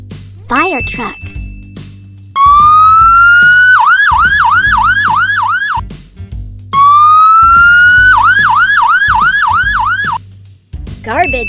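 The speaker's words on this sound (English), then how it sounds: "Firetruck." Fire truck siren wailing loudly and up close, with a rising wail giving way to rapid yelping cycles, repeated twice, over a low repeating background tune.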